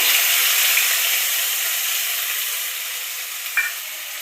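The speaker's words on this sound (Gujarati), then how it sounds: "મીઠા લીમડાના પાન, આદુ મરચા અને લસણની આપણે પેસ્ટ બનાવી છે એ વઘારમાં નાખશું." Curry leaves and a ginger, chili and garlic paste hit hot oil for a tempering in a Gujarati khichdi, giving a loud, steady sizzle that fades slightly over a few seconds, with a small clink near the end.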